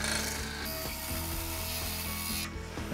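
A wood lathe spins at 1600 rpm while a turning tool rides the tool rest, its bevel rubbing the wood, giving a steady close mechanical hum with rhythmic scraping and clicking across the whole stretch, with no talk.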